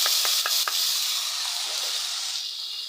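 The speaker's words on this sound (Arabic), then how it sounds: "اما الشعريه بقى تحمر يا حبايبي" Vermicelli fries in hot oil in a pot with a steady, close sizzle. A few quick scraping stirs come early, then the hiss carries on alone and fades slightly.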